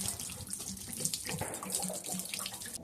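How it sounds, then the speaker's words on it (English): Water drains out of an RV water system during winterizing, a steady close trickle and splash. "we just gotta let this sit here and drain out"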